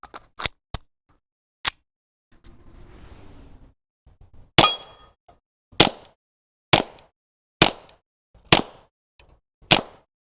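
Sharp, loud shots from a Kel-Tec P17 .22 LR pistol firing cheap Armscor ammunition, with two quick cracks early, then a pause with some handling noise, then six evenly spaced shots about a second apart.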